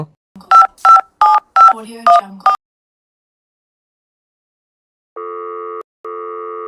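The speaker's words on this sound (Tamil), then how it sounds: "நான் ஏதோ ஃபோன் போட்டு தரேம்மா" A telephone being dialed: a quick run of about seven clear keypad tones in uneven rhythm, then silence, followed by two longer electronic tone bursts, as when a call begins connecting.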